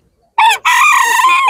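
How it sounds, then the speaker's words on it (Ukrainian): A rooster at an autumn animal market lets out a loud, close crow, a short opening burst followed by a long sustained call, with no talk over it. "І співучі кури."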